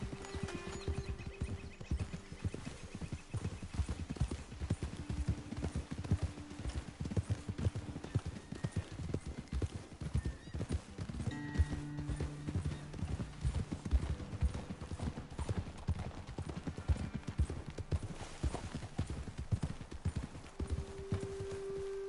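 Horse hooves clip-clop at a steady riding pace in a wild west video game, close and continuous for the whole stretch, with faint tonal background sounds.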